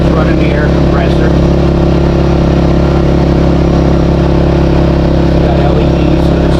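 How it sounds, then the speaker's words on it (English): A Westinghouse iGen4000FDc portable generator runs an air compressor, giving a loud, constant, close engine drone, with a voice briefly heard over it. "So it's running the air compressor."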